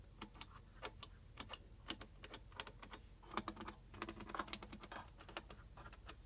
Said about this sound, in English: Buttons are snappy. You can hear it clicking.